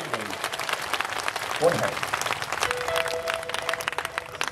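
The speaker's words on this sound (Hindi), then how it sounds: "दोनों हाथ जोर से ताली बजा के परमेश्वर का धन्यवाद करें जोर से।" Congregation at a church revival gathering clapping hard to thank God, a dense crowd applause with rhythmic clapping running throughout while a voice speaks over it.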